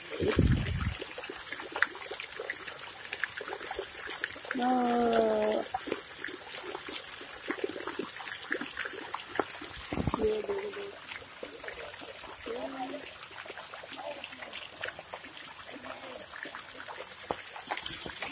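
Water trickles and pours in a small stream outdoors near Kanak Ghati in Jaipur, faint and continuous, with brief voices and a few louder splashes over it.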